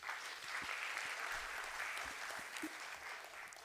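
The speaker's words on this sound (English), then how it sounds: "A round of applause, please." Audience applause fills a conference hall, steady and sustained for a few seconds, many hands clapping at moderate distance with no talk over it.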